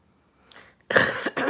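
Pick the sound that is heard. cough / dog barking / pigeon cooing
cough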